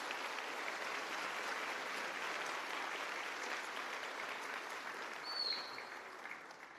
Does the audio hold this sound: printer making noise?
no